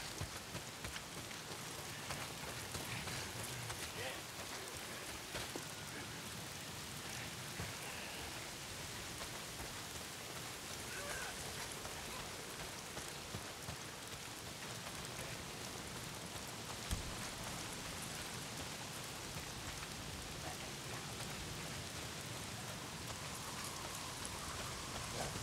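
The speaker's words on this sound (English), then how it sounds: "If it's not the freaks, it's the goddamn rain" Steady, dense rain from the open-world video game Days Gone falls throughout, a continuous hiss of drops on surfaces at an even level with no pauses.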